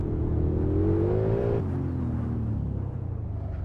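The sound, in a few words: big turbo Godzilla-swapped S650 Mustang accelerating, video game Assetto Corsa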